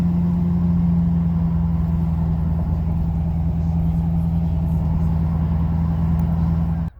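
Steady road noise from Atturo Trail Blade MT mud tires while driving at around 30 mph, a constant low rumble and drone with a mid hum, loud and continuous until it drops off abruptly at the very end.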